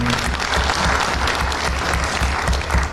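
Audience applause after introductions at a Kenyan political gathering, a dense steady round of clapping throughout, loud and close, with a low rhythmic thump underneath.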